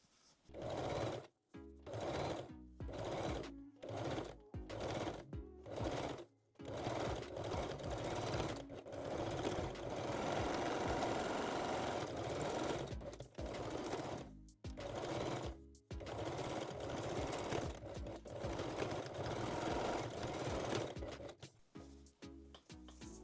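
Sewing machine stitching thin elastic onto the wrong side of a foam-cup bralette, running in short bursts separated by quick pauses, then a longer steady run of close, rapid mechanical whirring.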